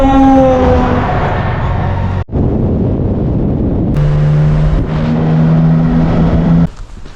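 Car engines rumble and hum nearby in a town square in Spain, with a vehicle revving and shifting pitch as traffic of cars and motorcycles moves past.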